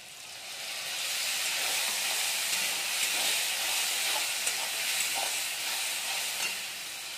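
Spice paste sizzling and hissing in a hot pan while a dried-fish (shutki) curry is cooked, a steady loud frying hiss running the whole time with no talk.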